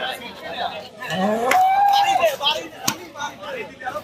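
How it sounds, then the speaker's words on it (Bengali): A large cow lets out one long, drawn-out moo amid a busy crowd at the Diabari Qurbani cattle market, with people chattering nearby and a sharp knock or two. "এই যে একটা গরু পাহাড়ের পাহাড়ের সাইজের গরু"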